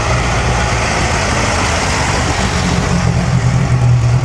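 A four-cylinder Ferrari at the Mille Miglia road race rumbles loudly and close, a steady low engine drone that grows slightly stronger toward the end.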